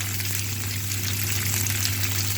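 Small potatoes and peas fry with salt and turmeric in a wok, giving a steady close sizzle with a constant low hum underneath, no talking.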